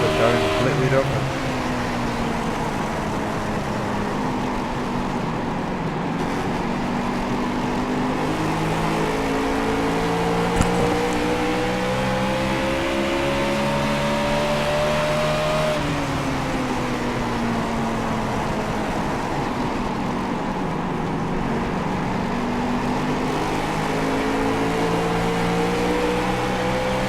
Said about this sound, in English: You can just hear the engine difference between him and Daniel T. Murphy.